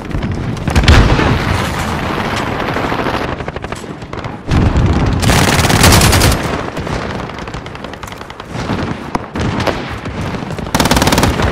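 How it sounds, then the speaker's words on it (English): Fast machine gun fire in Call of Duty: Modern Warfare rattles loudly in long sustained bursts, mixed with booms and explosions, and separated by brief pauses. "This is a fast machine gun."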